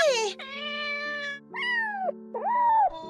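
A cat meows several times in quick succession, with clear, bright rising and falling calls and brief gaps between them, close to the listener, in a playful children's cartoon setting.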